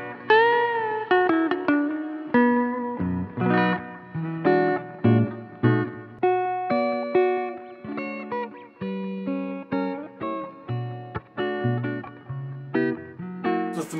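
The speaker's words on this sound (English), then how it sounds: "I also have an afterneath, which is a reverb pedal." Electric guitar notes and chords played through an Afterneath reverb pedal, with a lingering reverb tail, each phrase ringing out and decaying into the next.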